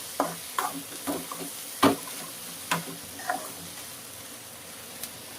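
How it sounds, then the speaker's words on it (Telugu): Tomatoes fry in a pan for egg keema curry, a low steady sizzle broken by several sharp scraping knocks of a stirring utensil against the pan, close and without speech. "ఇప్పుడు చూడండి, ఇది బాగా వేగుతుంది."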